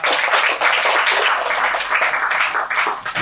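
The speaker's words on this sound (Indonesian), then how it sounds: "sekali lagi kita tepuk tangan yang kencang" Participants at an Indonesian wellness camp session clap loudly together, a dense, continuous burst of applause that holds at full strength.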